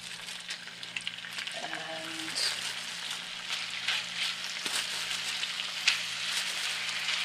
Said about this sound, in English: I added a little olive oil to the nonstick pan, and I put the steak in there